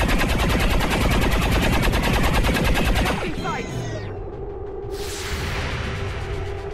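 A cannon in XCOM 2 fires in a fast, loud rapid-fire burst of repeated shots that stops abruptly, followed by a whooshing sweep and lingering rumble.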